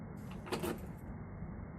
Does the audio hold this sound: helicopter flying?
no